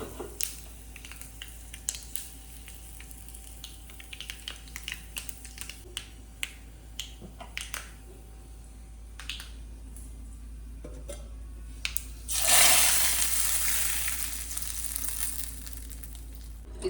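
Mustard seeds, dried chilies and curry leaves crackle in hot oil for idli thove, sharp scattered pops at first, then a loud burst of hissing sizzle near the end, close by with no talk.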